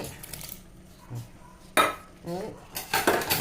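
A utensil stirs clam curry in a metal cooking pot, giving scattered scrapes and clinks of metal against metal that come in short bursts, with a denser clattering at the end and quiet stretches between.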